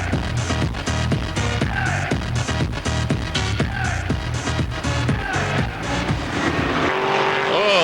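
Loud race car engines roar continuously on a 1999 oval track as a car spins out in front of another, with dense overlapping engine drone and a shifting tone near the end.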